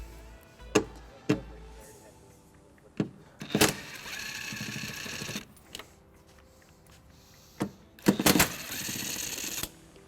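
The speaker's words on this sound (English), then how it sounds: "We're going to remove these two bolts using a 10mm socket." Bolts on a 2011 Dodge Grand Caravan's driver-side tail light are worked loose with a 10mm socket, giving sharp metallic clicks and short bursts of rapid ratcheting, fairly close and moderately quiet.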